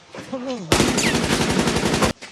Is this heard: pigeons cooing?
no